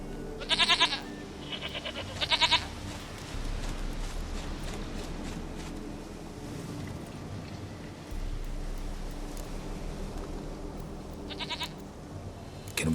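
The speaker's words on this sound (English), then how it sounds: "Goat of mine, dearest, sweetest goat." Goats bleat in The Witcher 3, with two short bursts near the start and another later, heard over a quiet ambient game background.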